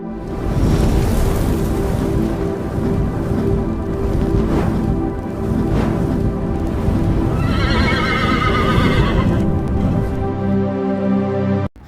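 A mare on a farm neighs loudly and repeatedly, with long whinnies close by, hoof clatter and rustling around them.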